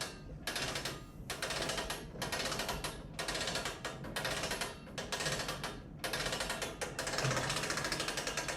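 A slab roller's wheel is cranked by hand to push clay through for a ceramics slab box, giving repeated bursts of mechanical ratcheting and grinding, each several seconds long, separated by brief pauses, close and steady, with no talking.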